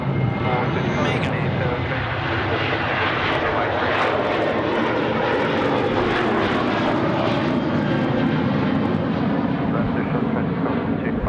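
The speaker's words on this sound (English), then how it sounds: "We've got our Regional Express 737 pumping it off runway 34 right now." A Regional Express Boeing 737 takes off from runway 34 at Sydney Airport, its engines roaring loud and continuous throughout, with voices heard faintly beneath the noise.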